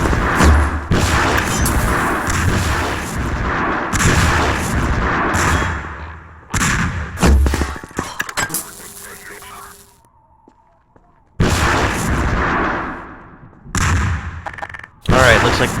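Rocket launcher explosions in Half-Life 2: Episode One, heavy booming blasts in loud clusters separated by brief quieter gaps, with a voice talking intermittently.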